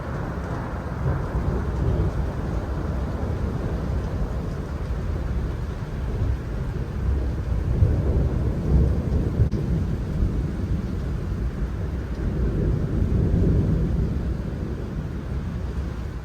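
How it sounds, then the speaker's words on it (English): Thunder rumbles long and deep over steady heavy rain in Fiordland, New Zealand, the roar swelling and fading across the whole stretch without any voices. "Getting smoked by fucking thunder and lightning."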